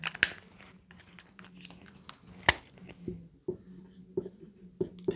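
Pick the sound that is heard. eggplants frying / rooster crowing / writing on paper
writing on paper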